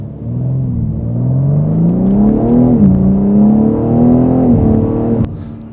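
A 2023 BMW M3 xDrive Competition accelerates hard under turbo boost, its engine note climbing steadily through the gears with a brief dip at a shift, loud and close, then cutting off abruptly.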